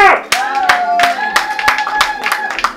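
A church congregation claps in praise, with sharp irregular hand claps under a raised, sustained voice speaking or singing over them.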